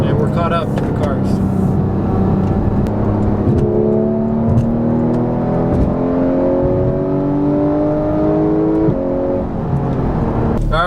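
Porsche GT3 sports car driving on a freeway while commuting to work, its engine a steady close drone with rising rev sweeps as it accelerates through the gears, continuous road and wind noise underneath.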